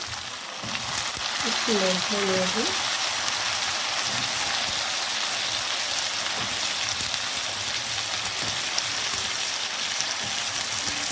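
Large cubes of potato drop into hot oil for a potato biryani and fry with a steady, crackling sizzle that fills the whole clip, with a brief clink of utensils near the start.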